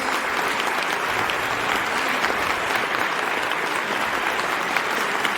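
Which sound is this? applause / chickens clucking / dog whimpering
applause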